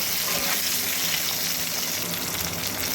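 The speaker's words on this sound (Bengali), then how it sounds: "আলু আর ফুলকপি একসঙ্গে একটু লালচে করে ভেজে নেব" Potato and cauliflower pieces, turmeric-dusted, frying together in hot oil for a Bengali katla fish dish, giving a steady, loud, close hiss of sizzling that fills the whole stretch without a break.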